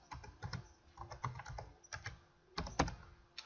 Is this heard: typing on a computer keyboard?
yes